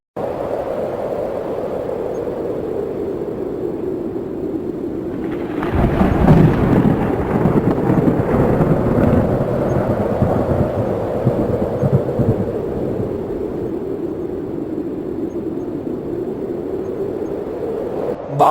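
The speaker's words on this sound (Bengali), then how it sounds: "বাইরে মনে হয় ঝড় উঠেছে" A cartoon thunderstorm: steady low rain-like rumble, then a heavy roll of thunder bursts in around the sixth second and slowly fades back into the continuing storm drone, with no talk.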